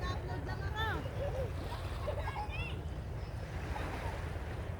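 Sea waves wash steadily at a beach in Batangas in the Philippines, a continuous surf rush with wind, while people talk and call out over it.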